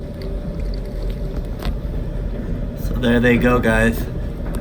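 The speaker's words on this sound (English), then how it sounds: "take in how fast this machine is spinning the Vapormaxes" Washing machine drum spinning a pair of Nike Air Vapormax 3 shoes on a high setting, a steady low rumble and whir running throughout, with someone speaking briefly over it near the end.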